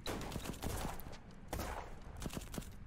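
Rapid, crackling bursts of gunfire from the video game Black Skylands: Origins sound close and repeated, several volleys in quick succession with brief pauses.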